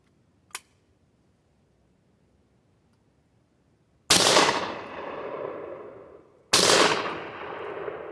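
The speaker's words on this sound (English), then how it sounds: "16 gauge. So I'm shooting 8s out of it right now. So this is really loud." A 16 gauge shotgun fires size 8 birdshot outdoors, two loud separate blasts a couple of seconds apart, each ringing off in a long decaying echo after a faint click.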